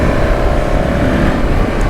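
A 2013 BMW GS650 motorcycle engine runs steadily while being ridden, a continuous close, loud broadband drone with a faint tonal whine and no speech.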